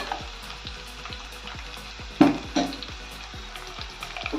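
Chopped onions frying in oil for a Telugu onion-leaf tomato curry: a close, continuous sizzle with regular rhythmic stirring taps and a couple of louder clatters midway.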